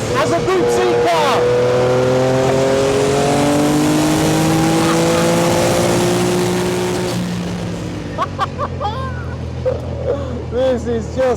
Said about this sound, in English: Driving a Porsche Group C Le Mans winning car.